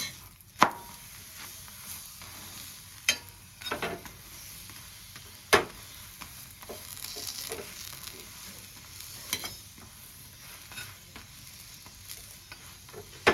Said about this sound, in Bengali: সাইডগুলো এরকম চেপে চেপে আমি ভেজে নেব